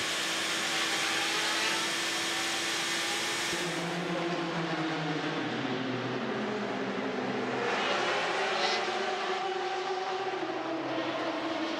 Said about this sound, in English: the number 8 Toyota whizzes past the 2 GT Pro cars